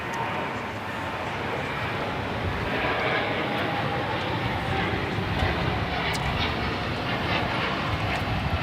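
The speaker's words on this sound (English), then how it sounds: "This is United Airlines 198 taking off to Shanghai on the 787-9 Dreamliner" United Airlines Boeing 787-9 Dreamliner taking off from Los Angeles LAX, bound for Shanghai: a steady, loud broadband jet roar that holds level throughout with a faint airy hiss on top.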